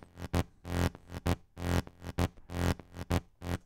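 A bright top-layer synth patch made in Sylenth plays a loud, choppy rhythmic pattern of short and longer stabs separated by brief gaps, with no voices.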